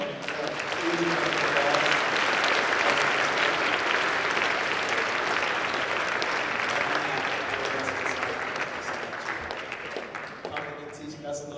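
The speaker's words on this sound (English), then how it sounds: "have another round of applause" A large audience at a Christian school gathering gives sustained, dense applause that holds steady for several seconds and then gradually thins out, with a few voices mixed in.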